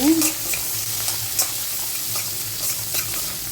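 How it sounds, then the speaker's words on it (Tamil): Onions frying in a pan for a beetroot stir-fry, a loud close sizzle with a stirring scrape at the start and brief clinks, no talking. "நல்லா வெங்காயம் ஃப்ரை ஆகட்டும்"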